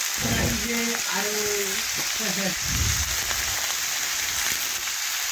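Drumstick flowers frying in a pan with turmeric and red chili powder, a steady close sizzle with a few stirring scrapes, while a voice talks briefly over the start.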